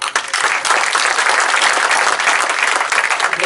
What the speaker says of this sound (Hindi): इसके लिए मैं आप लोगों के लिए तालियां बजाना चाहता हूँ।